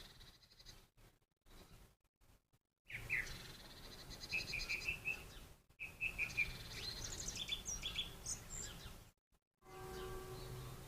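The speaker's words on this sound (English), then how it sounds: "we've got some blue tits are checking out the bird box" Blue tits call around a garden bird box in spring, with short bursts of high, bright chirps and trills that stay fairly faint and come in two or three clusters separated by gaps of near silence.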